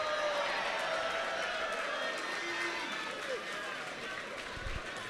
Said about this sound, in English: You hear that cheer for you.